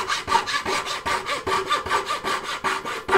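A hand turning saw cuts through wood in steady rhythmic strokes, about a dozen raspy back-and-forth passes close up with no voices.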